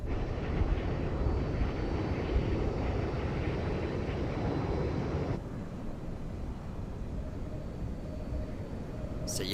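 A fixed-wing aircraft taking off from runway 09 gives off a loud, steady engine roar that drops to a lower, quieter drone about halfway through and holds there.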